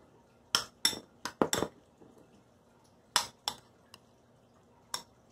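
A utensil stirs a sweet and spicy salmon sauce in a dish, making a handful of sharp, close clinks and taps against the bowl in irregular bursts, with quiet gaps between them and no one talking.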